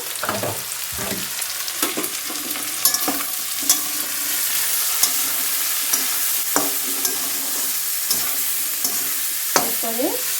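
Pumpkin greens with salt, turmeric and sugar are stirred in sizzling oil for a shrimp stir-fry, a continuous close frying hiss broken by repeated scraping and clinking spatula strokes throughout.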